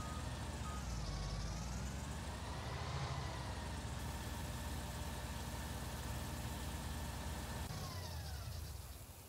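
A farm vehicle engine idles in the video game Farming Simulator 19, a steady mid-pitched rumble with a faint whine and a slight shift near the end, running alone.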